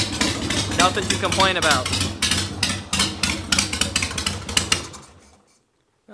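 A custom chopper motorcycle engine idles in a quick, loud, lumpy chug of rapid pulses, then cuts out and falls silent near the end, with someone talking over it.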